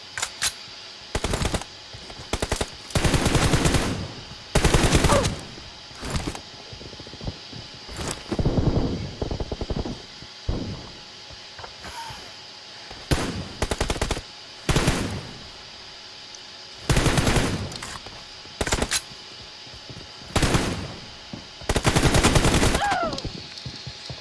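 Gunfire in the mobile battle game PUBG Mobile: repeated loud bursts of automatic fire, some short and some sustained, separated by brief pauses, close and dominant throughout.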